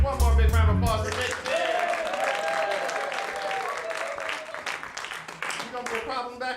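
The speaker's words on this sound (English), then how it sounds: "Big round of applause for Nick." A comedy club audience claps and cheers loudly for comedian Nick, a dense, sustained round of applause lasting several seconds with voices mixed into the noise.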